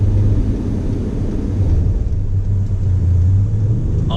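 A Ford F-150 Limited powered by a Raptor engine accelerates onto a highway, its engine and road noise forming a steady low rumble heard from inside the cab.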